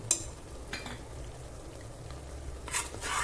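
Goat head curry frying in a pan with coriander and pepper powders, a soft, low sizzle with a few brief scraping stirs near the start and end.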